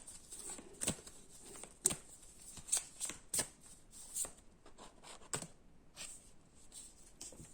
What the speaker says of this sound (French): j'ai tiré la carte